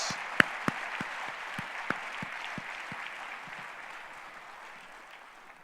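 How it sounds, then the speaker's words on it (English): Audience applause at a tech conference, a broad, moderately distant wash of clapping with a few sharp, close claps or thumps early on, tapering off gradually. "Big round of applause to our 96 partners."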